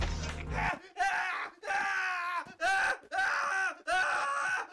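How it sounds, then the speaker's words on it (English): Game characters in the medieval sword-fighting game Half Sword scream and groan in five long, loud, strained bursts separated by brief gaps, with a low thud at the start. "They still scream a lot."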